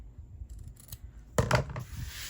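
Scissors trimming the fabric edges of a sewn zipper pouch near the seam, a soft faint snip followed by a louder, close crisp cut with a brief rustle of cloth.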